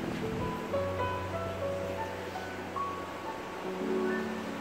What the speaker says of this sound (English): I love that sound of the ocean.